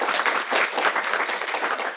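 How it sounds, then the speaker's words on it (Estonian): An audience at a club talk on Finno-Ugric books applauds the speaker, a short burst of even, moderately loud clapping from a small room of listeners. "teeme aplausi sellele."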